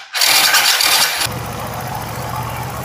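A Daytona RS125 injection motorcycle engine starts with a loud burst of cranking and catching, then settles into a steady close idle, no voices.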